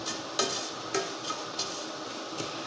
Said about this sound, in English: the milk and sugar mixture is boiling as well